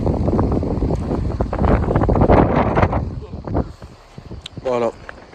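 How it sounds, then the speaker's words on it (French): Strong wind buffets the microphone on a black-sand beach near a fort, a loud roaring rumble that swells and drops while someone talks over it. "Je sais pas si vous m'entendez, mais avec le vent"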